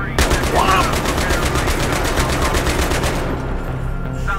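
Rapid automatic gunfire in the video game Battlefield 3, a dense, loud burst of repeated shots that stops near the end, with no voices over it.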